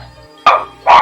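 Two sharp, loud barks from a dog nearby, spaced about half a second apart, with no talking around them and only a quiet background hum in between.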